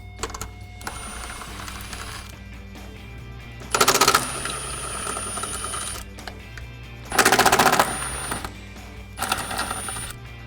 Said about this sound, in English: I'm using a 13mm deep socket and impact wrench to get those off